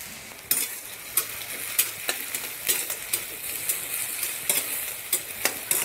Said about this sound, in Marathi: आणि एक मोठ्या आकाराचा कांदा असा एकदम बारीक चॉप केलेला फ्राय करून घ्यायचा